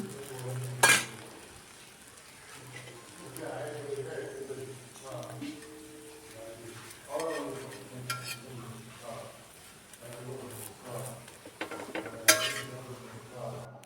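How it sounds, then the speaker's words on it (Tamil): Poli flatbread frying in oil on a dosa griddle, with a low sizzle, scattered spatula scrapes and a couple of sharp metal clanks; a voice talks faintly in the background. "நல்லா இப்போ தட்டிட்டு தோசைக்கல்ல போட்டு கொஞ்சம் சைடில் எண்ணெயை ஊற்றி திருப்பி போட்டு எடுத்துட்டாக்கா போலி சூப்பராக ரெடி ஆகிடுச்சுங்க"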